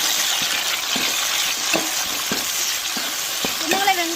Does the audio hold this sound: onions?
yes